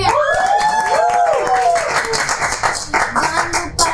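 A youth church audience breaks into scattered clapping and cheering, with bright whoops and shouts layered over the claps.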